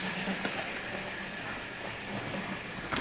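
A model railway train runs steadily around its track, a continuous mid-level rolling rumble with faint rhythmic clicks and a brighter rattle swelling near the end, with no voices.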